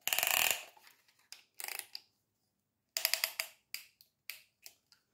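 A piston ring compressor is tightened around the piston rings while a T4 engine's crankshaft, connecting rod and piston are being reassembled. It gives a quick series of crisp, close ratcheting clicks in uneven bursts, with no voices.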